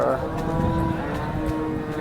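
A cow moos at a busy cattle market, a single drawn-out low call close by, with a crowd murmuring underneath.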